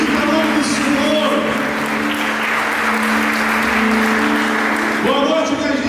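A worship service congregation claps together in a broad, steady roar, with sustained tones from instruments or voices running underneath and a short dip before the clapping swells again near the end.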